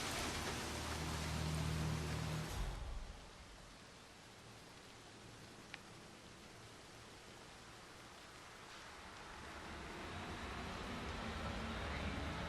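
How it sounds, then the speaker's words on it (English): Rain falls in the video game Hitman III, a soft, steady hiss of drops that runs throughout, louder at the start and end and faint in the middle, with no talk. "Rain, rain, nothing but rain."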